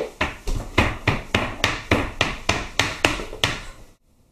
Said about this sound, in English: you want to mince your three cloves of garlic